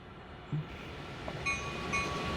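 A train rumbling in the Train Sim World 5 video game, a steady low rolling drone with faint tonal whistles and a couple of soft knocks, moderately quiet.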